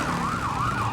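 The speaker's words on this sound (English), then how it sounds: "This is engine number 1. Provo City's fire department is here, the hook and ladder." Fire engine siren from a Provo City fire department hook-and-ladder truck in a Fourth of July Freedom Festival parade, a loud, steady wailing tone rising and falling continuously throughout.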